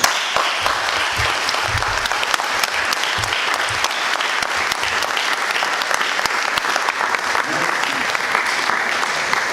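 Sustained, dense applause from a congress audience giving an ovation to the organizing committee, steady and loud throughout with no break.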